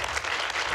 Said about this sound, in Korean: 묵직한 말에 절로 나오는 박수